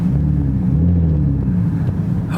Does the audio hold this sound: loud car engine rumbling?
yes